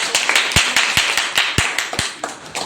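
Clapping from a crowd, a steady burst of applause with sharp individual claps standing out, lasting a few seconds with no talking.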